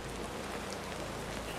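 Continuous Minecraft rainfall, a close, uniform wash of pattering drops that stays level throughout the brief stretch, with no voices.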